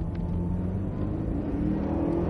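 A Cadillac CTS-V on track at Circuit of the Americas drones under throttle, a continuous, loud, low engine rumble heard from inside the car, its pitch climbing slightly, with no talking.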